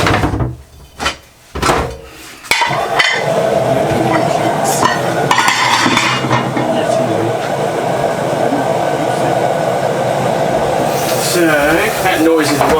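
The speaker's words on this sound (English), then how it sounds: "that noise is the washing machine." A steady, loud mechanical rumble and whir from a washing machine runs continuously, with a voice speaking over it and occasional clatter of grill tools being scrubbed.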